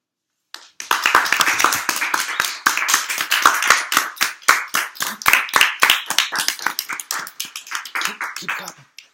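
Audience applause after a persuasive speech on sleep starts abruptly and runs for several seconds as dense, close clapping, then thins to a few scattered claps; voices chatter underneath.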